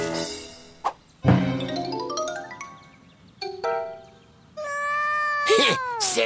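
A cartoon cat gives a string of loud, close meows with rising and falling pitch. Bright dings and chimes are mixed in, and it could pass for a cartoon voice actor imitating a cat.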